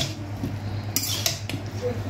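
Serving spoons are set into a dish of ghugni, making a few brief metallic clinks over a steady low background hum.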